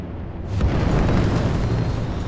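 Spaceship thrusters firing at full thrust in Star Citizen, a sudden loud roaring rush that ignites half a second in and holds as a dense, steady blast to the end.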